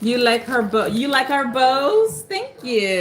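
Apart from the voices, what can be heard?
No everyday noises stand out.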